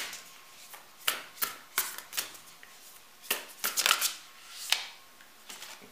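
Oracle cards are shuffled by hand in a quick, uneven series of crisp riffling and slapping bursts, close and clear, with no talking.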